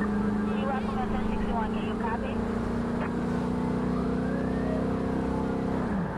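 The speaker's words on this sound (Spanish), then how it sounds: "Me gusta la relación de cambios que tiene este pinche carro de policía, están como muy cortos y suena bien feo." A police car's engine in the video game Cyberpunk drones steadily for about six seconds and winds down at the end, with short gear ratios that give it a harsh, ugly tone. A voice talks over it throughout.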